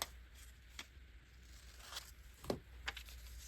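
Scissors snip through glossy magazine paper to shape a collage doll cutout, giving a few soft, sparse cuts with faint crinkling in a quiet room.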